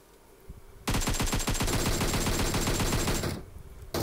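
Rapid automatic gunfire in a shooter video game as enemies are knocked down, a dense, loud burst of fast shots lasting a few seconds, with a lone shot before and after.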